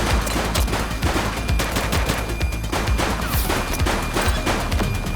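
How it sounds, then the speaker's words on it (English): Rapid bursts of automatic gunfire and overlapping shots from a suspect in the police video game The Precinct, loud and continuous with dense, rattling volleys throughout. "He's shooting!"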